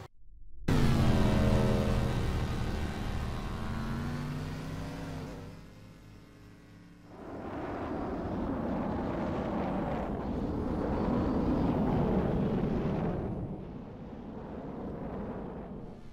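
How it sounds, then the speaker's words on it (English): Large missiles launch and fly in the naval combat game From The Depths, a loud sustained roar with a rising whine at first, then a dense rushing engine noise that swells and fades, with no talk. "let's try the large missiles"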